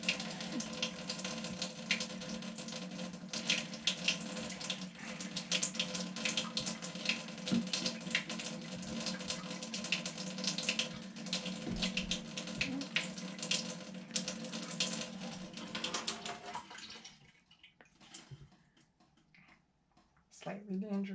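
Water runs steadily from a smart faucet into a sink, a constant close hiss and splash that cuts off near the end, leaving brief quiet and small handling noises.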